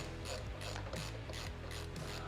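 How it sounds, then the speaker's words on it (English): A hand ratchet tightening roof rack mounting bolts on a 2008-2022 Toyota Sequoia, steady rhythmic clicking in about five quick back-and-forth strokes, close and alone. "I'm gonna get a ratchet. I'm gonna finish tightening those down."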